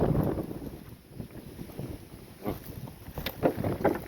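Steady wind gusting across an open outdoor spot on a sunny day, a broad rushing roar with surging swells and buffeting against the microphone, loud and continuous with no talk.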